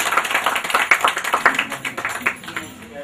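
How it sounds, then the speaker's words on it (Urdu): Audience at a literary gathering in Karachi claps, a quick run of close, uneven hand claps that fades out over a few seconds. "تالیاں۔"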